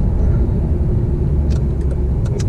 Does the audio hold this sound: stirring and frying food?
no